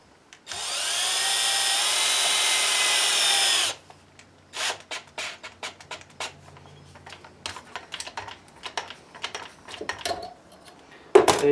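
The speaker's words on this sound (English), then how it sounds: "After I bend it over, I just chuck it up in a drill" A power drill whirs loudly and steadily for a few seconds, spinning a bent fishing lure wire chucked in it, then cuts off, followed by scattered clicks and handling noises.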